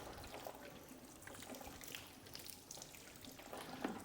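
Water trickles and runs steadily down the paintwork of a Peugeot 206 during a bodywork wash, a soft continuous faint pouring with no voices.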